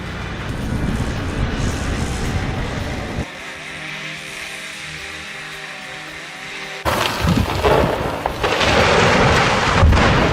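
A towering felled giant sequoia crashes down: a rough, rushing roar gives way to a quieter stretch of low rumble before a heavy, loud impact and crackling debris burst at the end, with no voices.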